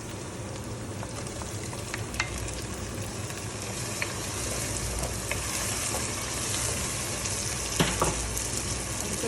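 Onions and freshly added tomatoes fry in a pan for an Indian vegetarian thali, a dense continuous sizzle close up with a few faint clicks and scrapes, no talking.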